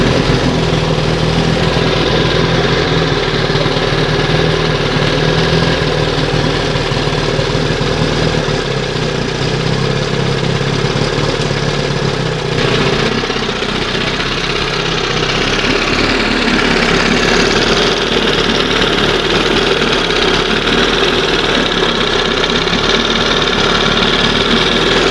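An old outboard motor runs at a high idle, a loud, steady buzzing drone that keeps going without a break, with a slight shift in tone partway through and no voices over it.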